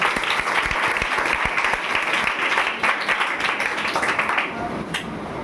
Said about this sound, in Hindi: चलिए, जोरदार ताली हो जाए एक बार।